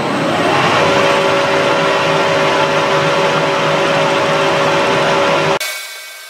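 A metal lathe takes a skim pass with the power feed engaged, giving a loud, steady broadband roar with a faint whine running through it for several seconds, then cutting off abruptly as the machine winds down, close up and with no talk.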